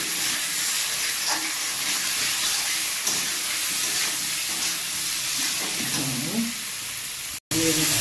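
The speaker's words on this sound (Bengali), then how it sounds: "মশলা ভাজা হয়ে গেছে" Spices with ginger paste, turmeric and salt fry in a pan for a fish curry, giving a loud, close, continuous sizzle with faint stirring scrapes and a soft voice or two under it.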